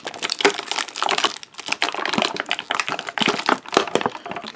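Tape is pulled and peeled off plastic action figure packaging, giving dense crinkling and crackling with sharp tearing bursts close to the mic, continuous throughout with no talking.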